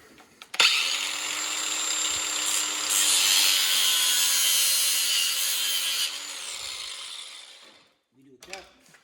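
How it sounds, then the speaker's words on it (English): An angle grinder with a cutting wheel spins up and cuts steadily for several seconds with a harsh, high whine, then winds down and stops. "Then I'm gonna take my cutting wheel and grinder."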